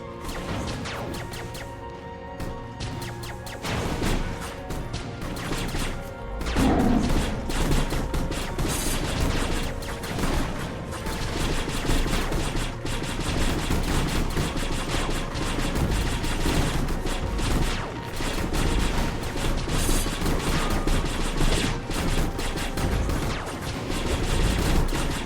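Dense, steady weapon fire in a video game, with crashing impacts and mechanical clatter layered into a loud, continuous barrage that swells after a quieter opening few seconds.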